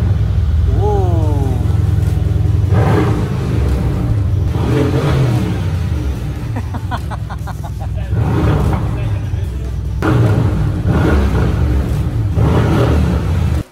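A Mercedes C63 AMG with a stage 2 straight-pipe exhaust revs in several sharp bursts with deep rumbling between them, while people talk over and around the engine.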